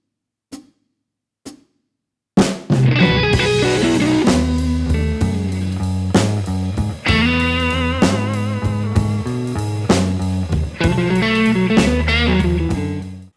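Electric blues guitar plays a lick in 12/8 time, bright and loud with ringing sustained notes and bends after a couple of faint taps, solo without talk.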